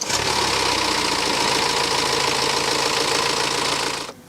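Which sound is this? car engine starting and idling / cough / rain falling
car engine starting and idling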